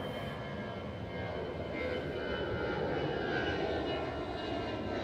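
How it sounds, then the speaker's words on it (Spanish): An airplane passes overhead as a steady, moderately distant roar of aircraft engine noise that holds evenly for several seconds, with no talk. "Va pasando un avión."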